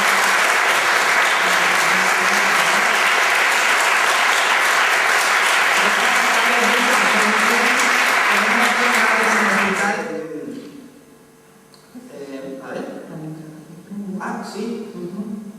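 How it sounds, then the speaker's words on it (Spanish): An audience at an Asturian film festival awards gala applauds for an honoree, a loud, even burst of many hands that stops abruptly after about ten seconds, followed by a voice speaking from the stage. "Un aplauso para don Juan José Luis"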